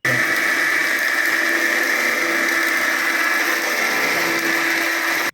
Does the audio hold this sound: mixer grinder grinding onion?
yes